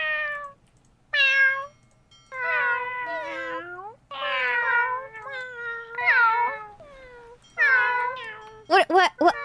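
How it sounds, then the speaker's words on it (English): A pet cat meows repeatedly, about eight drawn-out, wavering calls with short pauses between them, close and clear, ending in a few quick, sharper yowls. "Say hi to my cat."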